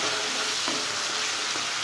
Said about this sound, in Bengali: এদিকে আমি খিচুড়ির মশলাটা করছি